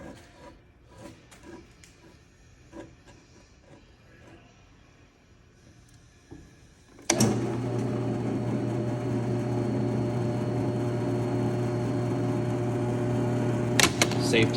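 A drill press's steady mechanical whir starts abruptly midway and runs loud and continuous, drilling a planter, after quieter handling sounds and light clatter.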